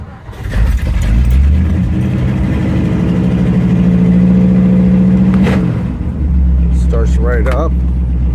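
A 1956 Mercury Montclair with an electric choke cranks and fires, its engine catching into a loud, steady running rumble close by, then dipping briefly before settling again.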